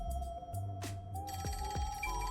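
A telephone ringing in Rain Code, a repeated electronic ring tone over a low musical backdrop, with several short descending tones and a steady high pitch, fairly close.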